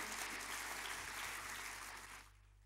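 A church congregation applauds the Lord, a dense, loud burst of clapping that holds steady for about two seconds and then cuts off abruptly.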